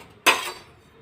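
Metal lid lifted off a simmering pot of Telugu onion rasam, a single sharp clink followed by a brief ringing rattle that fades quickly, close and alone.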